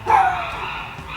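A dog barks outdoors, a single short bark near the start that trails off into a quieter background with no other clear sounds.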